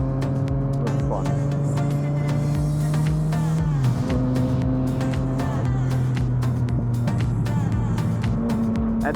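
A BMW engine runs with a steady, loud drone and a clear pitch shift partway through, then holds at a slightly different tone with no pauses.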